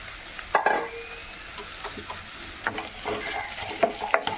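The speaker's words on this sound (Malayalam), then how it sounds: "ഇനിയിപ്പോൾ നമുക്ക് സബോള ഇട്ട് കൊടുക്കാവേ." Onion goes into a frying pan for a mushroom curry and starts to sizzle softly, with a spoon scraping and clattering now and then as it is stirred. The sound is close and there is no talk.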